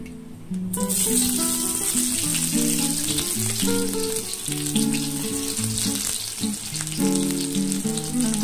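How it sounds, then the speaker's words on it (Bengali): Onions sizzling and crackling steadily in hot oil tempered with nigella seeds, a loud continuous fry that starts abruptly and carries on with no talking. "তেলের মধ্যে আমি কালো জিরা ফোড়ন দিয়ে আমি পেঁয়াজগুলো দিয়ে দেব"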